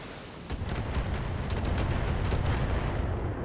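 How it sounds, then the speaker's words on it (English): In the BattleTech video game, mech combat sets off a dense run of explosions, booming blasts and crackling impacts that come in close succession over a constant heavy rumble. "Yeah, that's a lot of explosions."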